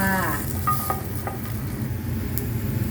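Fresh chili, eggplant and garlic are stir-fried in a hot pan for a canned-fish chili paste, giving a steady close sizzle broken by scraping stirs.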